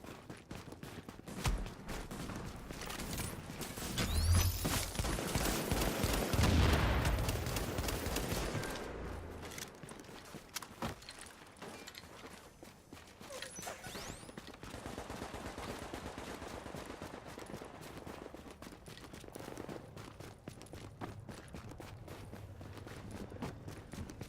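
Enemy gunfire in The Division, a video game, rattles in heavy automatic bursts for the first ten seconds, then continues as lighter, scattered shots and bursts.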